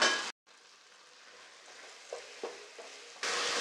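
Chopped bell peppers sizzle gently in a hot pan, with a few soft scrapes of stirring, and louder bursts of sizzle at the start and end.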